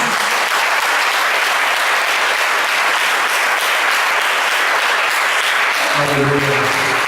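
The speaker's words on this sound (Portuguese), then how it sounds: "Aplauda o Senhor em nome disso" Church congregation at a family service claps loudly and steadily in a sustained wave, with a voice starting to speak over the clapping near the end.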